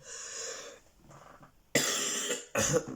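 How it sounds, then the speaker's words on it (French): Several harsh coughs, the last two loud and abrupt, close to the listener with no talking. "Je suis vraiment désolé si je tousse souvent."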